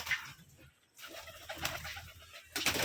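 Rajshahi giribaz pigeons, a colour-matched farm breed, coo softly in a loft, with a few low murmuring calls rising and fading against a steady background hum before a louder burst at the end.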